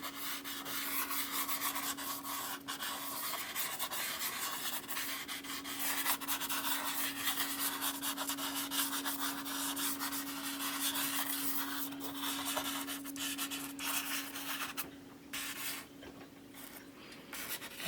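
Soft pastel rubbing over paper, a continuous close, quiet scratchy rasp with short pauses near the end and a faint steady hum underneath.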